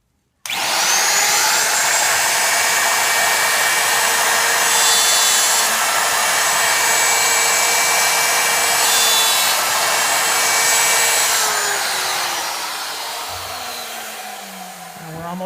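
A router on a Leigh D4 jig cuts box joints in wood, a loud steady high whine held for about ten seconds before winding down as the spindle slows.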